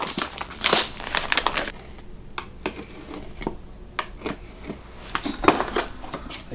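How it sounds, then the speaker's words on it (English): Wood-encased packaging for an Evo X gurney flap being ripped open: irregular bursts of crinkling and cracking, loud handling noises with quieter gaps between them. "I'm gonna rip this off real quick, but this is encased in wood"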